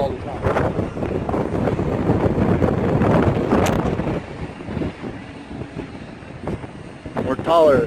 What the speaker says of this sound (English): Windy as fuck all the time.